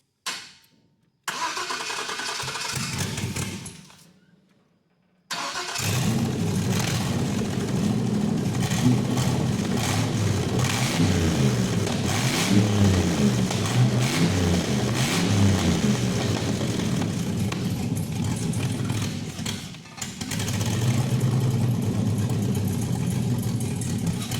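Car engine revving and struggling to hold an idle, a steady rough mid-pitched drone with surging swells after a brief start and a couple of short cut-outs, close and loud with no talk.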